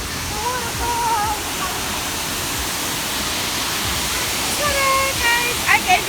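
A waterfall in a nature reserve on a hike rushes as a steady broadband roar, with bird chirps and voices faintly on top near the end.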